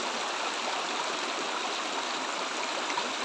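Stream water flows steadily at a campsite a short way above a waterfall, a continuous broadband rushing and gurgling at an even level with no talk over it.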